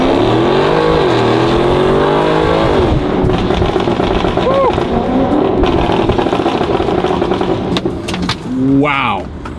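The heavily modified Range Rover's engine revs and drones on its first drive, loud and close, pitch sweeping up and down through gear changes while voices talk excitedly over it.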